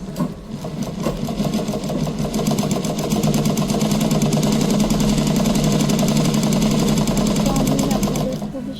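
A sewing machine runs steadily for several seconds while stitching a blouse latkan, its rapid, even clatter speeding up slightly and then holding a constant fast pace before it stops.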